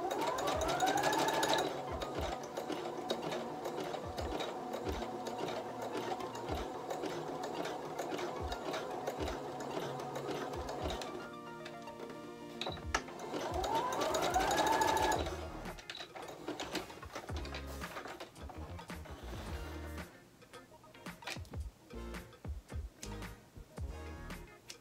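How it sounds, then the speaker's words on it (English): A sewing machine runs zigzag stitches back and forth to attach elastic to bikini bottoms made from a T-shirt, a steady close mechanical whir with rhythmic ticking that pauses, then restarts in shorter bursts near the end. "what I'm going to do is zigzag stitch back and forth a couple of times to make sure it won't pop or break"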